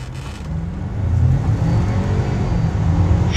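A 2025 Ford Maverick with its 2.5L inline-four hybrid engine and 8-speed transmission accelerates hard, a loud close engine roar that builds over a few seconds with low rumble and rising whir, heard alone.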